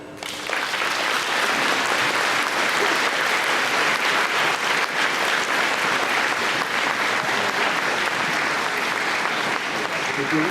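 Audience applause at a middle school Veterans Day program, a dense, loud, sustained clapping from a large crowd lasting about ten seconds, with some voices mixed in.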